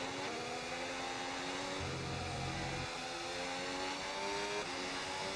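An F1 race car engine from the F1 26 video game drones steadily at high revs, its tone rising smoothly with a brief low rumble partway through, loud and close with no talking.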